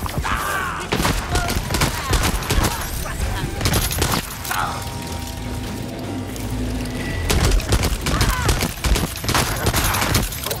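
Gunfire in the video game Deathloop: bursts of shots and booming impacts crackle through a chaotic firefight while a player exclaims and talks over the action.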